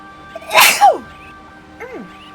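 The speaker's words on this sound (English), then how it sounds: "I'm gonna sneeze." A person gives one sharp, loud sneeze, with a brief inhale just before it and a short vocal sound afterward.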